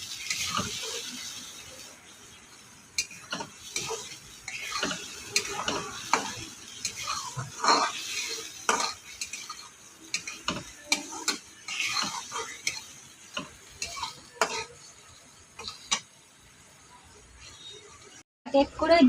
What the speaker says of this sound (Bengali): এবার মশলাটাকে কষিয়ে নিচ্ছি।